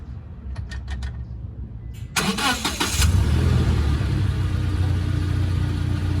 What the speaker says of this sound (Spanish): Deme prendiendo el carro, por favor.